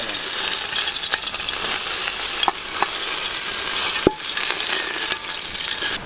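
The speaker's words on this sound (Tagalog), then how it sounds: "magpiprito na po tayo" Ox tongue fries in a pan with a steady, dense sizzle throughout, punctuated by a few light clinks and scrapes of stirring utensils.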